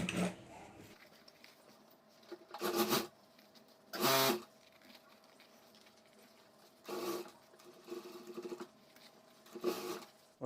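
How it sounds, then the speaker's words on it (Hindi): A home sewing machine stitches a homemade school bag in several short, separate runs of under a second each, with quiet pauses between them, heard fairly faint and close. "तो यहाँ मैं सिलाई कर देता हूँ।"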